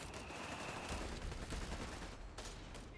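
Battle sounds from Company of Heroes 3, a World War II strategy game, as grenadiers hit riflemen with a grenade: dense rapid gunfire and bursts rattle continuously in a busy, faint mix.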